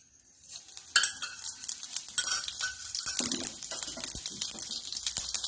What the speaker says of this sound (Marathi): आता आपणाला याच्यामध्ये फोडणीला जिरे घालायचे